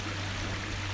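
A mineral hot spring stream in Hell Valley, Noboribetsu, flows in a steady broadband rush of water beneath a constant low hum, unbroken and fairly loud for about a second.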